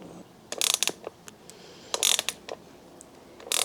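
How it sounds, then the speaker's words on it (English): A 13mm spanner tightening the seat clamp of a Brompton B75 folding bicycle, giving off quick ratcheting clicks in two short close bursts, separated by quieter handling noises. No one speaks. "And now I'm going to tighten up the clamp."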